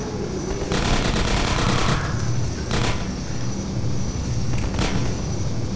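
Rapid automatic gunfire in Half-Life 2: Episode 1 rattles in sustained bursts with brief pauses, loud and continuous over a steady game soundscape.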